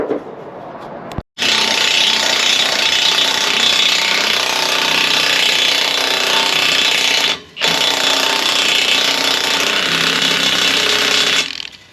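A new bolt is tightened on a combine auger at the end of a soybean harvest, with a loud, continuous rattling power-tool hammering that runs for long stretches, cuts out briefly twice, then resumes, with no talking.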